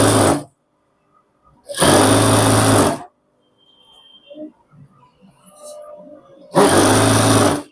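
A sewing machine stitches pants in three loud, close bursts of fast running, separated by near-silent pauses with faint fabric handling and soft talk.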